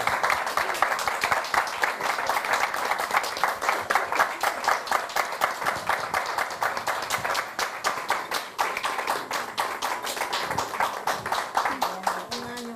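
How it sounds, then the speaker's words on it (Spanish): Sustained audience applause and an ovation at a cultural tertulia gathering, dense steady clapping from many hands lasting the full stretch, fairly close and even, with a voice briefly audible near the end. "no un aplauso, sino una gran ovación como usted se lo merece."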